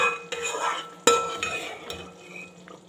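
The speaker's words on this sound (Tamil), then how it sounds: "நல்லா இந்த பொடி போட்டது வெந்துடுச்சு இப்படி ஓரம் எல்லாத்தையும் நம்ம தள்ளி விட்டுக்கணும்" Spoon scraping and stirring roasted powder in a pan while making Deepavali legiyam, with a sharp clink of metal near the middle and softer scraping and faint sizzle around it, close and fairly quiet.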